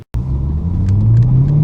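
Supercharged BMW M3 E92 engine droning steadily while driving, a loud close low rumble with rising pitch as the car accelerates, with supercharger whine above, after a brief cutoff at the start.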